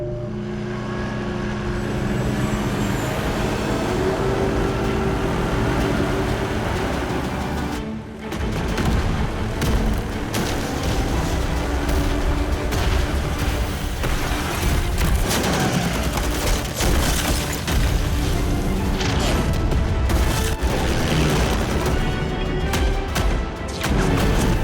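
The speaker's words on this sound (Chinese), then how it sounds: "眼下的城市是炮声隆隆" Heavy artillery and gunfire rumble over a wartime city, with dense, continuous booming and crashing that stays loud almost throughout and dips only once briefly.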